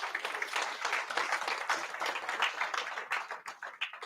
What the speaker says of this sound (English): Let's clap hands for that.